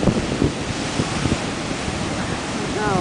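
Ocean waves surge and wash continuously at Nantucket's Sheep Pond ahead of a storm, a broad steady roar with heavy wind noise buffeting the microphone and faint voices mixed in.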